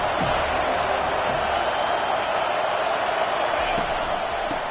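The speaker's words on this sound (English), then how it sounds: "Third down, and this crowd is tearing the lid off this place." A stadium crowd roars on third down at a college football game between Duke and FSU, a dense, loud, continuous wash of voices that holds steady throughout and drowns out any single shout.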